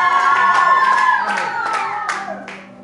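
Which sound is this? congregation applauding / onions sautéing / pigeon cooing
congregation applauding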